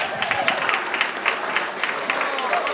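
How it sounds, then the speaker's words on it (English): An audience applauds dancers at a 40th anniversary celebration, with steady, moderately loud clapping running throughout and a voice speaking over it. "a big round of applause for the B-Ways dancers"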